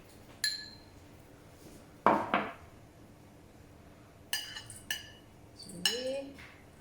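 Ingredients for a Thai beef salad are tossed in a bowl: a few sparse, sharp clinks and taps of utensils against the dish, close and fairly quiet, with soft scraping between.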